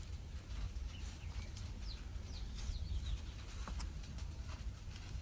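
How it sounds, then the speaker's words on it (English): Birds chirp near a wasp nest outdoors, with brief high chirps and short calls scattered over a steady low rumble of background noise, faint and irregular, with no talk. "Sounds of the birds chirping away."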